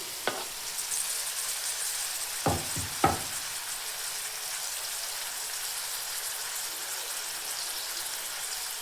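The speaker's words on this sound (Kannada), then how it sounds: "ಈಗ ಇದಕ್ಕೆ ಸಣ್ಣದಾಗಿ ಕಟ್ ಮಾಡಿ ಇಟ್ಕೊಂಡಿರೋಂಥ ಟೊಮೆಟೊ ಹಾಕೊಳತ್ತೀನಿ" Finely chopped tomatoes in a hot pan, a steady bright sizzle throughout with a few sharp clinks and scrapes of stirring near the start, close and without talk.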